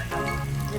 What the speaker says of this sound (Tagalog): Tiis, kahit umuulan.